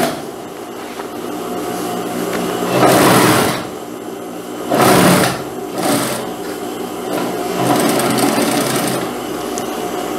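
Sewing machine running in several bursts while stitching the seams of a sport-collar jacket, loud and close, each burst of rapid mechanical whirring separated by quieter pauses, no talking.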